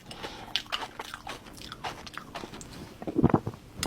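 Crunchy bites into a strawberry Christmas log cake, with a few crisp crunches and chewing sounds up close, the loudest burst of crunching near the end.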